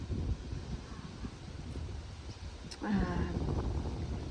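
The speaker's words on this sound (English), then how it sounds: "As you can hear, it's blustery now, but it's so much cooler." Blustery wind buffets an outdoor microphone in a steady, rumbling roar, swelling stronger toward the end with a faint whistling gust.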